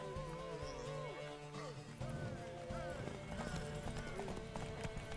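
Hooves clip-clop at a rapid galloping rhythm as a horse runs in the video game The Witcher 3, heard up close under steady game music and background effects, with brief speech mixed in.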